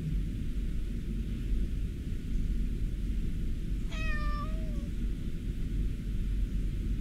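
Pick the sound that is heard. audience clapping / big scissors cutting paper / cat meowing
cat meowing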